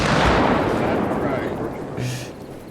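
Incoming indirect artillery fire in the video game Arma Reforger: a big rumbling blast right at the start that fades slowly over a couple of seconds, with a voice and a short low thud nearby.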